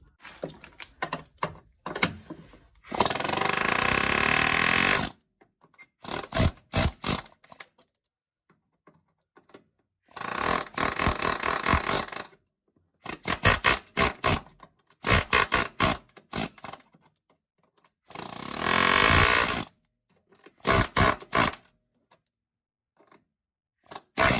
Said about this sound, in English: So I'm just going to carefully try and separate it with the air chisel.